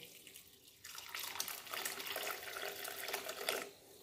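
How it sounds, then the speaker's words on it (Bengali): Cold tap water runs steadily into a sink to rinse vermicelli. A close, splashy stream starts suddenly, holds for about three seconds, then cuts off. "সিমইটার মধ্যে আমি ঠান্ডা জল দিয়ে দিয়েছি, এটাকে ধুয়ে নেব।"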